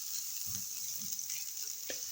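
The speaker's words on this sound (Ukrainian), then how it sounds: "і спочатку смажу цибульку" Steady, soft sizzling of onion frying in sunflower oil in a pan, a continuous hiss with a few faint stirring knocks.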